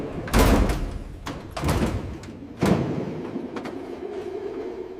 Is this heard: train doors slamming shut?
yes